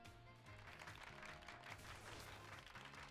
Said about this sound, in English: at least there's a sound effect for clapping